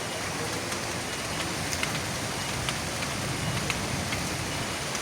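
Steady rain falls in an even, dense hiss with scattered close drops pattering on a surface, continuous and moderately loud, with no voices.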